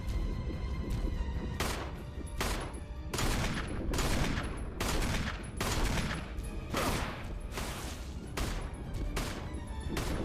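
Rapid retro video game gunfire in a boss fight, dense bursts of shots and booming impacts hammering continuously at a loud, steady level.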